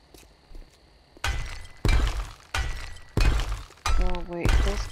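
Glass panes shatter repeatedly in 7 Days to Die, five loud, close crashes arriving about every second with broken shards ringing after each, with a voice faintly present beneath.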